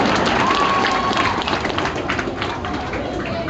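An audience at a Tamil wedding-matchmaking event hall claps in a dense burst of applause that slowly thins out, with a faint whistle-like tone early on.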